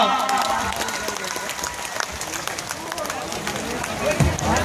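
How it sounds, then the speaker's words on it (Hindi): At a village mahapanchayat gathering in Barkagaon, the assembly applauds to welcome the activists, crowd clapping blended with loud voices and general hubbub throughout. "इन आंदोलनकारियों को एक बार तालियों से स्वागत करें पूरे सभा"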